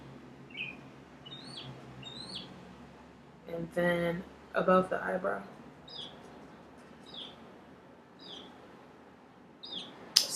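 Small birds chirp outdoors in short, high, repeated tweets spread through the scene, with a person talking nearby over them.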